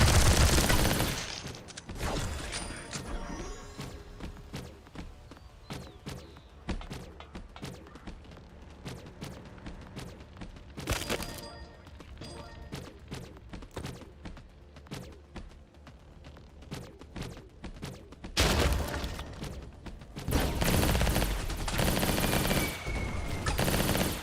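Missiles and guns in the battle royale game Skillshot City fire in long stretches of rattling automatic shots and scattered pops. Heavy, loud bursts of missile blasts cluster near the start and again near the end.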